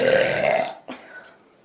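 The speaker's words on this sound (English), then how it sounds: "Excuse me, I did have to burp." A woman streamer lets out a loud, drawn-out burp lasting about a second, then a shorter second belch follows after a brief gap.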